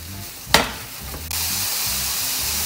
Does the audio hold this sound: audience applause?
no